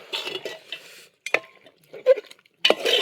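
A spoon stirs chicken curry in a pot, heard as scattered close clinks and scrapes against the metal with quiet gaps between them and a faint simmer underneath.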